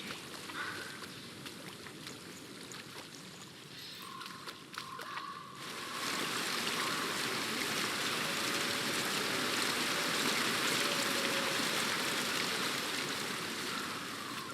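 Steady rushing water from a stream in Hellblade: Senua's Sacrifice, quieter at first and then swelling into a loud, continuous broadband wash, with no talking.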